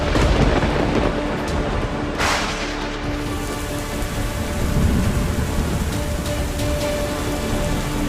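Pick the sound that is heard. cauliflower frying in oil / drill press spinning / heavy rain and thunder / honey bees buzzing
heavy rain and thunder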